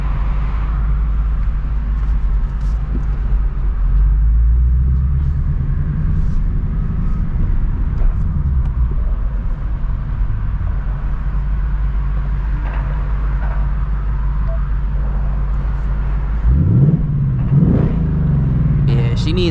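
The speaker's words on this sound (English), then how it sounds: "she needs more loud with that off-road H-Pipe on here." A 2024 Mustang GT with an off-road H-pipe exhaust burbles and rumbles steadily from inside the car while driving at night, a low continuous drone with a brief rev swell near the end.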